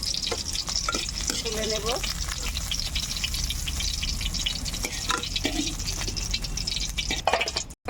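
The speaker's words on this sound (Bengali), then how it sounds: "এবার ব্রোকলি ভেজে নেব।" Broccoli frying lightly in a pan, with a steady sizzle throughout and occasional stirring scrapes, while a voice speaks briefly over the cooking.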